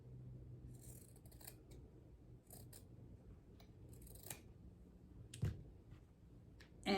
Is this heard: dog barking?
no